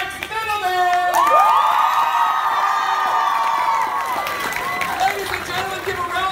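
Convention crowd at a comic con panel cheers, whoops and applauds loudly, high shrieking voices swelling and then fading slightly while a presenter speaks over the noise.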